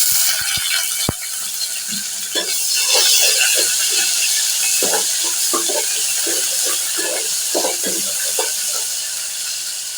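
Water poured in small amounts into a pan of browned onions with ginger and garlic, a steady splashing and trickling with faint clicking knocks running the whole ten seconds.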